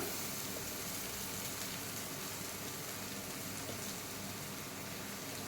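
Boiled beetroot with onion and homemade chilli powder cooking in a pan, a dense continuous sizzle like heavy rain, loud and unbroken.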